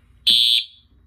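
A single bright electronic beep from a Simplex 4010ES fire alarm system test, high-pitched and steady, lasting about a third of a second against a quiet background.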